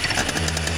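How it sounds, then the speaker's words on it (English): A jet surfboard's 100cc fuel-injected two-stroke motor running, a loud buzzing, raspy engine drone with rapid pulsing filling the whole brief moment, no voices. "That's a 100cc fuel injected two-stroke."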